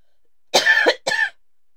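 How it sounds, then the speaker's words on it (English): A person coughs twice in quick succession, close and fairly loud, each a short rough burst with silence before and after. "I am so sorry to keep coughing."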